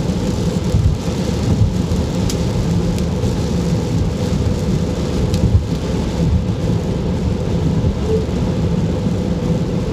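Heavy rain pours steadily over a car during a night drive, with low rolling thunder rumbling underneath a dense, loud, continuous hiss that never lets up.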